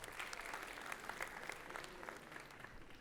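A comedy club crowd at a stand-up show claps in a steady, even burst, the applause staying level and unbroken for a few seconds with no one speaking over it.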